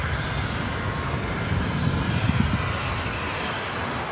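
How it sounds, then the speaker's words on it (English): An All Nippon Airways Boeing 787-9 Dreamliner takes off from Los Angeles airport, a steady broad engine roar heard from a distance that holds level throughout without talk. "This is All Nippon Airways Flight 5 taking off to Tokyo Narita on the"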